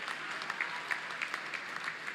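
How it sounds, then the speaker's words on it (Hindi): Applause from an event audience honouring hockey player Salima Tete, steady broadband clapping sustained throughout at moderate level with scattered sharper claps, no talk over it. "जोरदार तालियां सलीमा के लिए"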